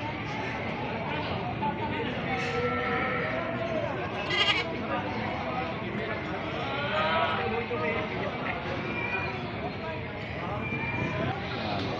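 Goats bleating at a livestock auction market in Padre Garcia, Batangas, a few calls rising out of a busy crowd murmur while someone talks over them.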